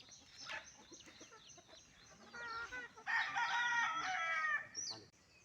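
A rooster crows loudly and close by in a long, strained call, with clucking fowl and other bird chatter around it.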